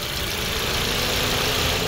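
Maruti Suzuki Swift VXI 2023 idling with its air conditioning running, a steady, continuous engine hum with a faint hiss of the AC blower, heard close and alone.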